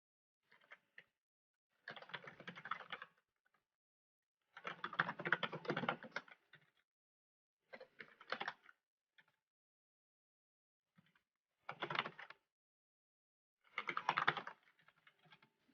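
Typing on a computer keyboard in short separate bursts of rapid key clicks with quiet gaps between them, close and fairly soft, with no voices.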